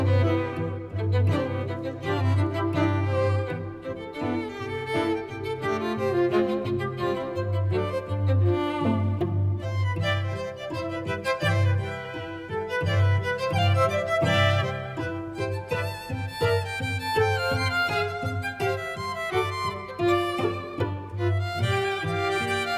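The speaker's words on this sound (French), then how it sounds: "Ce que vous avez entendu, c'était juste des instruments virtuels." Virtual string quartet played by the SampleModeling Strings ensemble, with sustained, layered bowed lines moving through a continuous passage of about twenty seconds, moderately loud and without talk.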